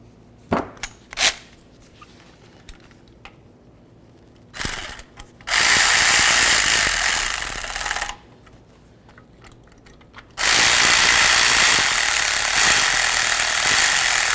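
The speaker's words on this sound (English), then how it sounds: "Go ahead and start them both in before you tighten either of them down." Power tool tightening the mounting bolts of a neutral safety switch on a 1992-99 GMC K1500 truck, heard as two sustained close whirring runs, each a few seconds long, preceded by scattered clicks and short taps.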